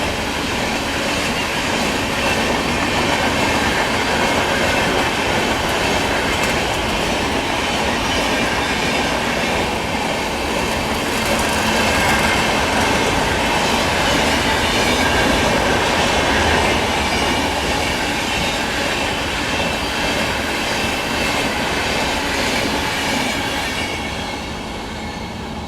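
The Sampoorna Kranti Express, running Rajendra Nagar Patna to New Delhi, roars past a six-platform station at Subedarganj in one loud, steady wash of wheel and carriage rumble that holds for nearly the whole stretch, easing only at the very end.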